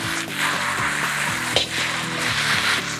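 Wide rice noodles sizzle and clatter in a wok over high heat, rhythmic scraping and tossing strokes, loud and close, with no talking.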